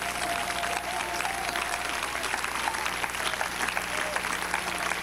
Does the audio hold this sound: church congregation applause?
yes